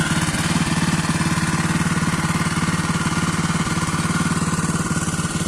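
A small engine powering a drip irrigation pump in a chili pepper field runs steadily at idle-like speed, a close, even mechanical chug with a fast regular pulse throughout and no one talking.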